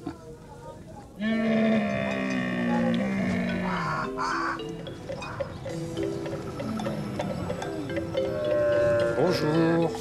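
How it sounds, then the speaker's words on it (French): Camels and donkeys in Kenya call out with loud, drawn-out groans and braying, several overlapping animal voices close by amid outdoor background noise. "Il y a les chameaux,"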